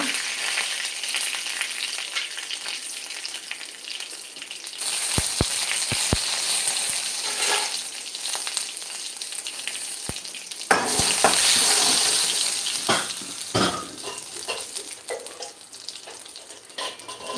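Mustard seeds and curry leaves sizzle steadily in hot oil, close and continuous, with sharp metallic clicks and scrapes of a utensil against the pan and a louder burst of crackling partway through.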